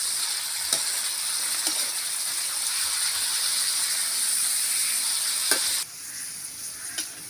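Pork with crushed pepper and a little salt sautés in a pan, giving a loud, steady frying sizzle with faint crackles and a few sharp clinks of a utensil stirring, then dropping quieter near the end, with no talking.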